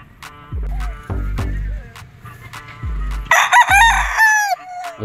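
A straight-combed, yellow-legged gamefowl rooster crows at a game farm, loud and close, with several deep clucks followed by a raspy cock-a-doodle-doo crow, another bird calling nearby.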